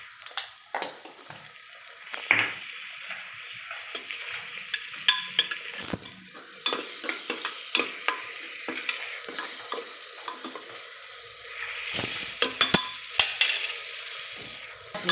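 Ground masala paste frying in oil in a pan for a fresh pigeon pea lentil curry, a soft sizzle broken by frequent spoon scrapes and light clinks against the pan, no talking.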